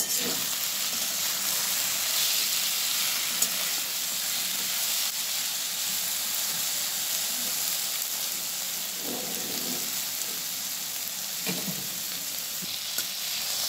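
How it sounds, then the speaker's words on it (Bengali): Taro stolons and chickpeas fry in a pan, a steady close hiss of sizzling oil with occasional soft scrapes and clicks as the mixture is gently stirred. "ছোলা দিয়ে কচুরলতিটা একটু ভাজা ভাজাভাবে করা হচ্ছে।"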